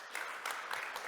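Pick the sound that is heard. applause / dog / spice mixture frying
applause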